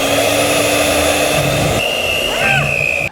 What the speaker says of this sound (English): let's mix this on a low speed.